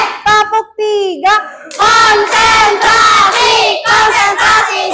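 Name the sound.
class doing rhythmic clapping routine (tepuk konsentrasi)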